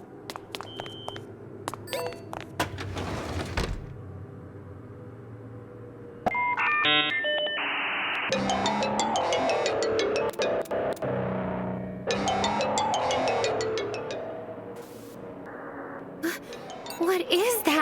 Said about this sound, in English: Even the ringtone is creeping me out.